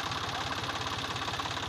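A tractor engine, just pulled free from mud, runs steadily with a rapid, even low knocking chug, close and unbroken.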